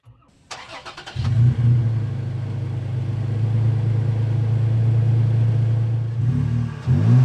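A 2022 Toyota Tacoma TRD Pro fires up and revs through its TRD Pro exhaust. A short starter whir gives way to a deep, loud, sustained rumble that holds steady for several seconds, then dips and swells again at the end.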